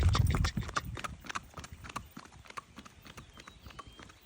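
Rhythmic clip-clop of a 13-14 year old, 14-hand pure Paso Fino mare gaiting, quick even hoofbeats fairly close and distinct, with a brief louder thump at the start and no talk.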